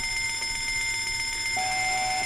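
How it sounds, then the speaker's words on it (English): An alarm goes off inside the video game Fallout London, a steady electronic tone that starts partway through over a constant background hum of game ambience, with no talking. "we've tripped some sort of alarm, which is not good"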